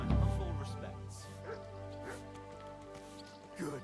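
A dog in Kingdom Come Deliverance 2 gives a few short yips and whimpering barks, fairly faint and spaced out over a low steady background hum.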